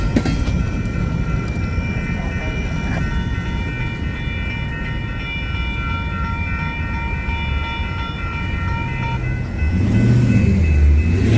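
A quad-locomotive freight train rolls past close by in St Paul, Minnesota, with a steady heavy rumble and sustained metallic squeal tones throughout, swelling louder near the end.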